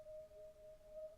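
A clean, steady synth tone holds a single pitch, thin and pure, quiet and alone with no other sounds.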